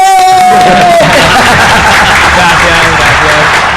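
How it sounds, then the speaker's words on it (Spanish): An audience bursts into loud, dense applause that swells and carries on without a break, with a voice briefly heard at the start. "¡Un aplauso grande para él!"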